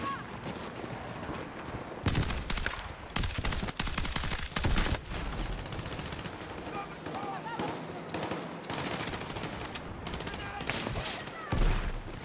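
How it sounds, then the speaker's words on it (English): Battlefield 6 gunfire cracks out in repeated sharp shots and rapid bursts, loud and close, with near-constant firing across the whole stretch. "sniper shooting at me everywhere"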